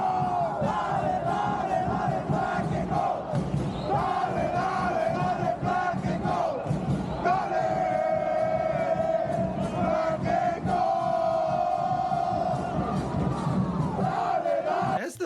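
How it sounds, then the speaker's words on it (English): LAFC supporters chant in a packed stadium as a tifo is raised, a dense, loud, continuous roar of massed voices holding sung notes that rise and swell throughout, with no individual speech. "You'll just hear some chanting"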